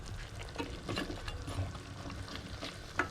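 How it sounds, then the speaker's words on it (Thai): Pork belly and eggplant stew bubbles in a pot, a soft, continuous burble and crackle of boiling liquid with small pops scattered throughout, moderately close. "กำลังเดือดนะครับ"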